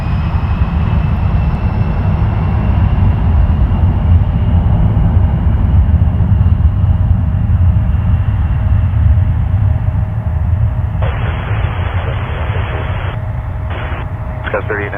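An airliner taking off from runway 06 left at Toronto Pearson Airport, a steady broad engine roar that stays loud and continuous throughout, with a tower radio voice talking over it.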